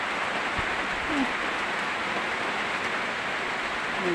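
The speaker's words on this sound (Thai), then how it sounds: "โอ้ฝนตกจ้ะ" Steady, dense hiss of rainfall over a rice-field hut, close and constant, with no voices or distinct other sounds.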